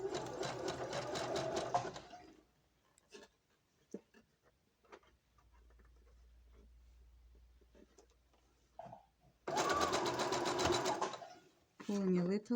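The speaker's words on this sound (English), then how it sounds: "back and forth stitch." A sewing machine runs a back-and-forth stitch on a pair of panties in two loud bursts of rapid, even whirring at the start and near the end. Scattered small clicks and fabric handling fill the quieter middle.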